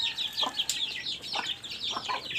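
Small flock of new chicks and hens on a backyard poultry farm, peeping steadily in high chirps with low clucks breaking in about three times, close and fairly quiet, no talking.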